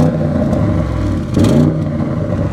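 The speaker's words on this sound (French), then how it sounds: "Regardez l'échappement aussi, sonorité retravaillée." An Audi RS6 Performance engine holds a loud, steady drone through its reworked exhaust, with a brief swell of revs midway, close and continuous with no talk.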